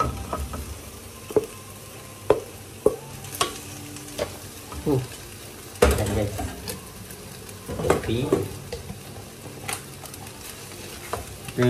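Cooked rice stir-fried in a hot pan: steady sizzling with scraping, clinking spatula strokes at irregular intervals, and a brief word or two spoken over it.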